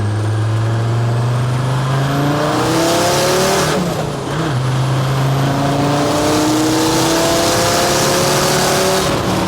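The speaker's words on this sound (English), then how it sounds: "I'm going to roll into the boost just gently so you can hear the wastegate" An OM605 turbo diesel in a 435 bhp Series 1 Land Rover pulls hard under boost, engine note climbing steadily with a loud rushing whoosh as the wastegate opens, a brief dip, then building again, close and continuous.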